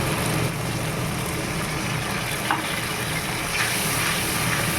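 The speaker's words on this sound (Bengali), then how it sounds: "এর মধ্যে আমি অল্প জল দিয়ে দেবো।" Water splashing into tomato sauce in a hot pan for chilli soybean, making a steady, dense hiss that fills the whole stretch with no pauses.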